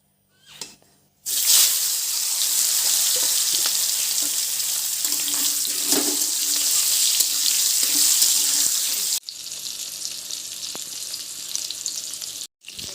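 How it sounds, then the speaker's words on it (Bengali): Pointed gourd dropped into hot mustard oil sets off a loud, steady frying sizzle that fills nearly the whole stretch and then settles into a quieter hiss for the last few seconds. "এর মধ্যে এখন আমি পটল দিয়ে দেবো।"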